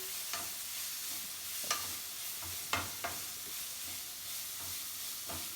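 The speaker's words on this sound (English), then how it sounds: "Then let's saute it." Millet noodles with pepper sauteing in a pan, giving a steady soft sizzle with scattered light scrapes and taps as they are stirred, close and alone with no talking.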